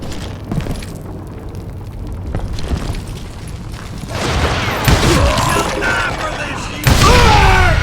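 Dynamite and gunpowder blasts in the Call of Juarez: Gunslinger video game, a sustained heavy rumble of explosions and crackling debris building louder toward the end, with a voice speaking over part of it.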